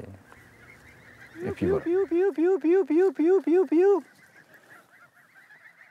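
Young four-week-old geese on a foie gras farm honk in a loud, rhythmic run of about nine calls, preceded by a brief burst, with a voice speaking briefly before and after.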